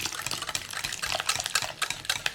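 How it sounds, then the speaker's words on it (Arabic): A litre of milk poured into a container for an oven-baked caramel flan, giving a steady, fairly close liquid splashing and gurgling for about two seconds with no talk. "ودابا غنديرو الحليب، لتر ديال الحليب غنديرو."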